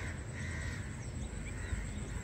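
Faint cawing of crows flying over a polluted river at Sangamwadi, Pune, over a steady outdoor rush of wind and water, the calls distant and partly blurred by the background noise.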